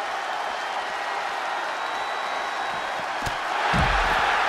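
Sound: crowd cheering in WWE 2K24 video game

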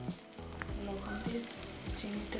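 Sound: oil sizzling in a preheated pan for frying shrimp

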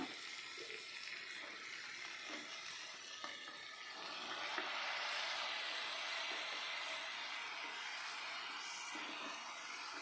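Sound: vegetables added to the pan sizzling for white kurma

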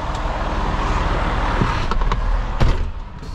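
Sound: truck pulling forward to drop a trailer

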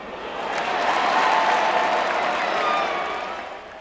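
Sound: audience applauding wildly

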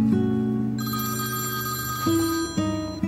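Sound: telephone ringing

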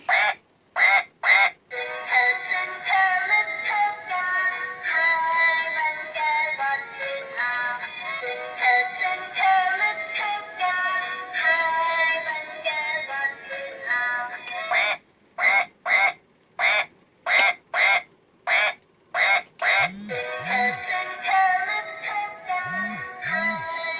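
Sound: duck quacking

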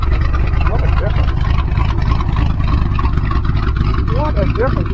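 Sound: car engine and exhaust running after mechanic's work

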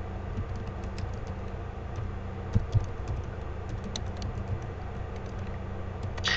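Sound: typing server address on a computer keyboard

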